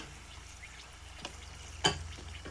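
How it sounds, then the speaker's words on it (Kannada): Mutton holige deep-frying in hot oil gives a soft, steady sizzle with a brief louder crackle burst near the end; no one speaks. "ಎಣ್ಣೆಲಿ ಕರೆದಿದ್ದೀನಿ ನೋಡಿರಿ."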